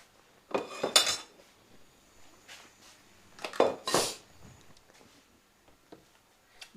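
A mixer bowl that held fresh eggs being washed in water, with bursts of clattering dishware and metal knocks in a few close, loud clusters separated by quiet gaps.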